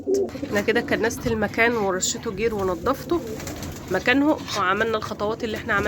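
Pigeons in a coop, kept above a duck brooding area, coo repeatedly in soft rolling calls throughout while someone talks over them nearby.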